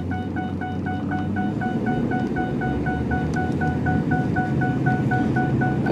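A truck rolls along at about 20 miles an hour with a steady, wind-heavy road rumble inside the cab, while a chime beeps in a regular, repeating pattern throughout.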